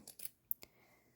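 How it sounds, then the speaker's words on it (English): Scissors trimming fabric close to a seam on pajama pants, heard as a couple of quick, crisp snips and a small metallic click, faint and close, with no talk. "I'm using these scissors because it's just going to be easier to trim thicker"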